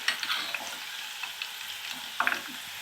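Red hibiscus flowers fry slowly in oil over a low flame, giving a soft continuous sizzle with scattered crackles and small pops, faint and close, with no voices.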